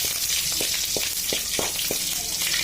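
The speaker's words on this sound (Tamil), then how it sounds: "கூட பச்சை மிளகாய் போட்டு நல்லா வதக்குங்க" Green chillies sautéing in oil over a low flame, a steady soft sizzle with occasional faint stirring clicks, close and continuous.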